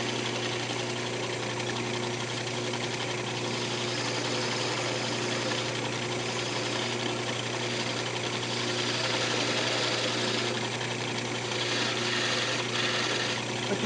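A wood lathe spins a small wooden keychain blank on a bushing, giving a continuous loud motor whine and hum with a steady mechanical drone throughout, no voice over it.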